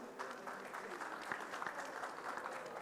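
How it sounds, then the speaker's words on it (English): An audience at a conference on international decarbonisation applauds a Tunisian government minister of the economy and planning. The clapping is dense and steady but fairly faint and distant, a continuous patter filling the hall for a few seconds. "que je vous demande d'applaudir, s'il vous plaît"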